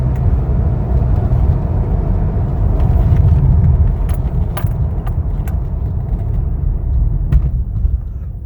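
A 2016 Toyota Tacoma Double Cab pickup cruising at about 60 mph gives a loud, steady low road and engine rumble, with a few faint jingling clicks inside the cab.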